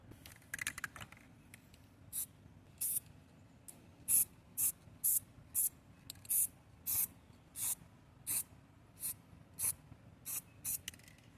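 A spray can hisses out paint onto an engine part for a Nissan 240SX outdoors, about a dozen short, sharp bursts in an irregular rhythm with quiet gaps between.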